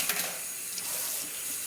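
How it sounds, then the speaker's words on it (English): Running water pours steadily over a wig being washed, a continuous close splashing hiss with no talking. "I drench it with water first,"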